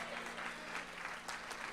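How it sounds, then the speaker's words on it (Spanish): A church congregation claps for the Lord during a Spanish-language service, a soft continuous patter of many hands heard at a distance over a low steady hum, with faint voices underneath. "Alguien le da un aplauso fuerte al Señor."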